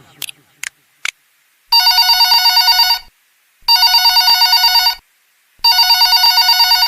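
A telephone rings on an incoming call in three long bursts of bright electronic trilling with short silences between, loud and close, after a few brief clicks.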